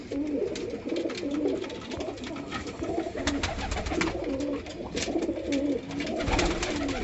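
A pigeon hen keeps up repeated rolling coos in a steady rhythm, close and fairly loud, over busy rustling and clatter from other birds.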